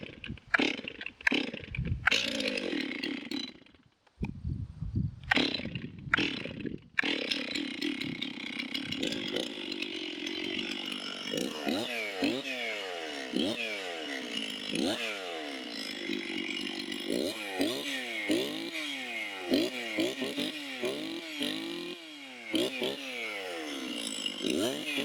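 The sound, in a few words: Stihl 036 chainsaw running after starting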